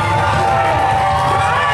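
A wrestling arena crowd cheering and shouting in a steady, loud roar that fills the whole stretch without a break.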